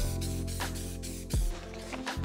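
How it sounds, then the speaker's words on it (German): Spray adhesive is sprayed onto plywood in a workshop, giving a continuous airy hiss with slight shifts in intensity and a brief sharper burst near the middle. No one speaks. "Also, dann machen wir mal den Sprühkleber da drauf."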